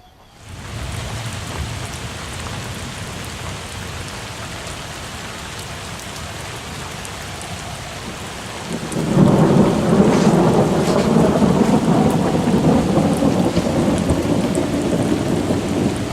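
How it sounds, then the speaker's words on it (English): Thunderstorm breaking over an island lake in Hungary: steady rain hiss at first, then a loud roll of thunder surges in and heavy rain keeps pounding, close and continuous, with no voices. "We'd been warned that storms were forecast, and it didn't take long for the first one to arrive."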